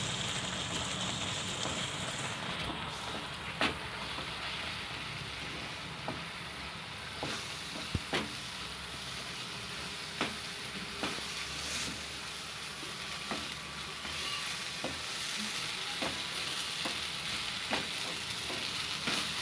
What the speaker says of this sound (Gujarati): બધો રવો આપણે નાખી દીધો છે હવે આને આપણે ઉકળવા દેવું